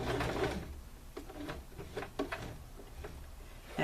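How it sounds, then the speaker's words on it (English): A sewing machine stitches the side seam of a beginner's fabric tote bag, running in short mechanical bursts with brief pauses, fairly close and moderately loud with no talking. "now we're going to sew to about a 1/2 inch before we reach the bottom"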